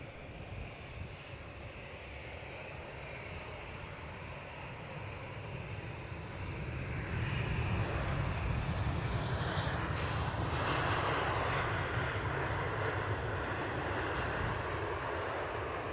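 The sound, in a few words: British Airways airliner arriving at Edinburgh Airport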